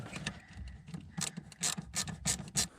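A ratchet tightens a hose clamp on a Dodge Ram intermediate shaft bushing repair, a series of rapid, close clicking bursts growing louder toward the end, with no speech.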